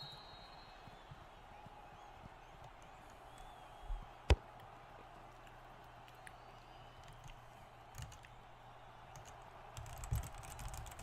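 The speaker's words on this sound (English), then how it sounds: "Sorry, I'm using my keyboard for a sec." Faint, sparse keystrokes on a computer keyboard, with one sharp isolated click midway and a small burst of typing near the end, set against quiet room hum.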